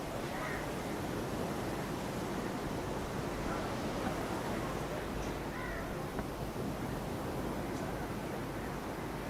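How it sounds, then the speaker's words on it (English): Ocean surf at an international surf contest in Tamil Nadu, a broad continuous wash of breaking waves, steady and fairly loud, with a few faint bird calls on top. "Lots and lots of waves being ridden, not necessarily too many good ones."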